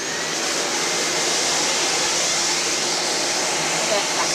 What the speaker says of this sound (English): You get the vacuum gun. Clear off all that dirt.